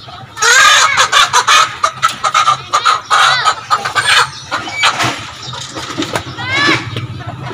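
Chickens cluck and squawk repeatedly at close range in uneven bursts, with people talking over the birds.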